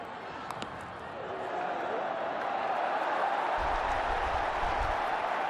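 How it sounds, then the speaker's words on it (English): Crowd at a cricket match in India roaring in a steady, dense wash of cheering that swells after the first second and holds loud throughout, with a deeper rumble joining near the end. "The crowd are loving it."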